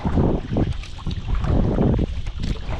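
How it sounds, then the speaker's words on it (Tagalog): Strong gusting wind roars steadily across the microphone, a dense continuous rumble with no voices. "medyo lumalakas yung hangin"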